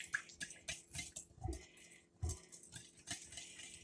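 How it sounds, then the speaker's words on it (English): Eggs for a bacon, spinach and cheddar quiche are beaten with a whisk in a deep bowl, giving quick, uneven metallic clinks and taps against the sides, close and fairly quiet. "I'm just whisking them together. And this is a deep bowl, so I can whisk it pretty good"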